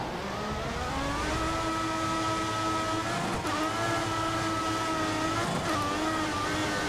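F1 race car in the F1 2014 game, heading into the pit lane at the Austrian race in the rain. The engine whines steadily and loudly throughout, its pitch holding fairly even with slight shifts and no talk.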